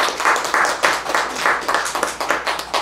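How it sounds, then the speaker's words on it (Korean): A single person clapping hands during a Buddhist study lecture, about ten close, even, rhythmic claps in a row. "저는 이런 대목에서 박수를 쳐드려요."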